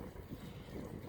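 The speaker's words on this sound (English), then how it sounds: "I'm kind of fighting the wind a little bit" Steady wind roaring across the microphone during a road bike ride near Siesta Beach, a dense, continuous low rumble with no talk.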